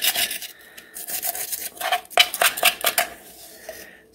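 A utensil scrapes ice cream off the inside of a DASH ice cream maker bowl, a close run of rasping, clattering strokes in an uneven rhythm, with no talk.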